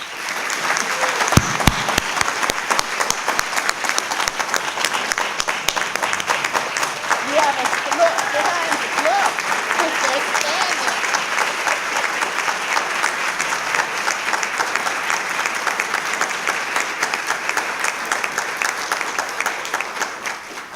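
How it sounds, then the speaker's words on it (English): An awards ceremony audience gives a long, steady round of applause for the honorees, dense clapping at an even level that carries on for about twenty seconds before tapering slightly at the end. "let's just give these wonderful, amazing people our gratitude with our applause"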